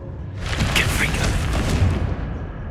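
A Confringo fire spell explodes in Hogwarts Legacy, a loud booming blast that bursts in after a brief lead-in and rumbles on steadily to the end.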